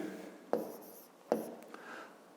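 A pen writes out a math solution on paper, giving two sharp taps followed by soft scratching strokes. The sounds are close and quiet, with no talk.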